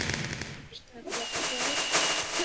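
Fireworks in a video game burst with a rapid crackling volley, loud and dense across most of the clip, with voices talking over it.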